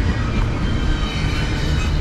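CSX manifest freight train M404 rolling past close by, a loud, dense, continuous roar of wheels and cars with no pause over the short stretch.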